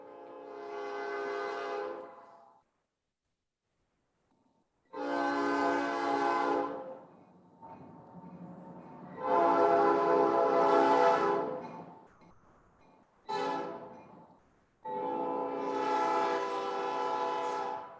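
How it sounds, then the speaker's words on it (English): A train passes with repeated loud horn blasts, several long honks separated by gaps, heard from fairly close outdoors near a city council meeting place in Lebanon, Oregon. "Wait for the train."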